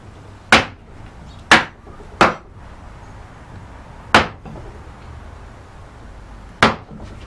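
Wood carving with a narrow 3/4-inch number 7 gouge struck by a mallet, five sharp close knocks at uneven intervals over a quiet background.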